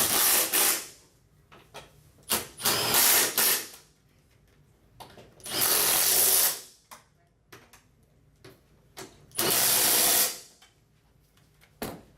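Power tool tightening the bolts on a 40/20/40 driver seat in a 2001-07 Ford F-250 extended cab, running in several loud bursts of one to two seconds separated by short clicks and pauses, with no talking.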